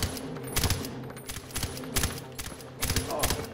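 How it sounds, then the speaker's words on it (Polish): Gunfire in the video game Far Cry 4 comes in sharp, rapid bursts and single shots, repeating irregularly over a steady ambient game background, moderately loud. "Oj kurde, ile tych strzałów?"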